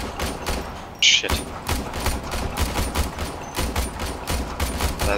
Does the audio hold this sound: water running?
no